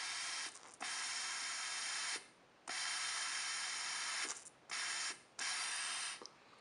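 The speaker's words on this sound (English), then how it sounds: "I'm going to blow through this line, and then I'm going to put this in my mouth as well" Breath blown through the boost reference line of a homemade fuel management unit, closing its valve: several bursts of broadband hissing air, each lasting about a second or more, separated by short pauses, close and fairly loud.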